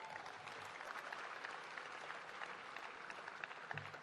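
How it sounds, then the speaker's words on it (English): Steady applause from a large audience at a celebration of Israel's 71st anniversary, an even, continuous patter of many hands heard from a distance for about four seconds, with faint voices underneath. "that certainly deserves a round of applause."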